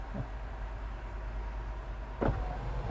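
An electric sunroof on a Mahindra XUV700 AX7 diesel opens with a low steady motor hum, ending in a brief louder clunk near the end as it settles, heard up close inside the cabin.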